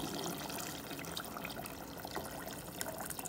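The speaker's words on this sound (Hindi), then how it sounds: "अभी इसमें मैं डालूंगी गर्म पानी" A quiet, continuous pour of hot water splashing and hissing into a pan of kala chana, steady throughout with no talking.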